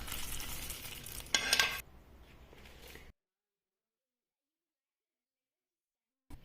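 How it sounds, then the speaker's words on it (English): A tempering of hot spiced ghee or oil is poured into millet bisibelebath, giving a loud, close, hissing sizzle that flares briefly and then cuts off abruptly into silence. "Adding in the tadka."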